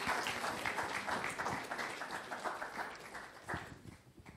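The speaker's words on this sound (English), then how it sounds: "Round of applause." A seated audience in the Sibley Auditorium at UC Berkeley applauds during the SCET Collider Cup event, a dense, steady wash of many hands clapping that fades slightly toward the end.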